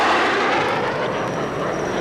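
Airplane engine roaring steadily and loudly as the aircraft pulls into a loop maneuver, a dense continuous drone with no voices.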